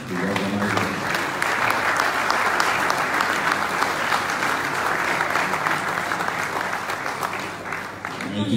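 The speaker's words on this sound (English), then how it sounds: "Let's give a round of applause to the organizer." A hall full of people applauding an event organizer at an African leadership gathering in Nigeria, sustained loud clapping with a few voices and murmurs mixed in, holding steady for several seconds before easing slightly.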